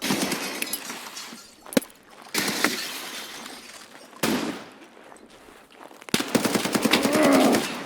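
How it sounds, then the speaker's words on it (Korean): Gunfire in a PvP shooter match with an M1A rifle in play: bursts of shots at about 1.8 s and 2.6 s, then a rapid string of loud shots from 6 s onward, with quieter ambient stretches between. "총소리."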